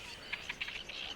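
Birds in a reed-bed breeding colony at Skadar Lake in the Balkans give a quick series of high, thin chirps over soft background hiss.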